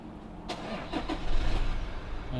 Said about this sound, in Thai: เหยียบเบรกได้เลยค่ะนะคะแล้วก็กดปุ่ม engine start